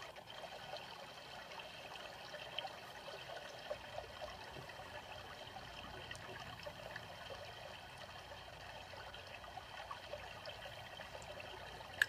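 Water trickles and flows in a cloud forest setting, a faint, steady, continuous babble with no voices.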